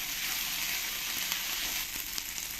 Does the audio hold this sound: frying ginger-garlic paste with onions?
yes